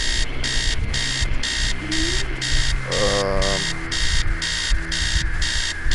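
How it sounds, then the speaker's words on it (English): Alarm clock ringing in the video game Stories Untold, a loud, insistent repeating electronic beep pulsing at a fast even rhythm, with lower background sounds and a brief rising tone underneath. "so we're gonna go to the alarm clock. Make it stop."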